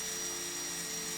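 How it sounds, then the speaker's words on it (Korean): An electric angle grinder steadily sanding the shaped filler of a homemade 4-inch Bluetooth speaker enclosure styled as a large AirPod. It gives a loud, continuous high whine with no break and no voices. "저는 그라인더가 편하기 때문에 그냥 그라인더로 작업했습니다."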